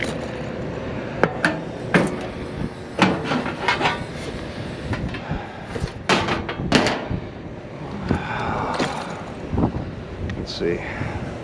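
An ice cream freezer door is opened, giving several clunks and sliding rattles with a brief hum behind them, while someone talks throughout.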